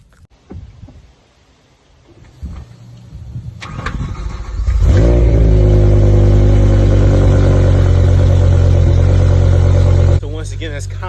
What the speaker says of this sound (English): let's go ahead and get a quick cold start on 2008 BMW M5